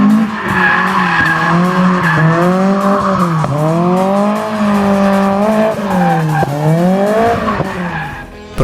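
Toyota AE86 drifting with the pendulum technique, its engine droning and rising and falling in pitch as the tires squeal and skid in long continuous howls, loud and close.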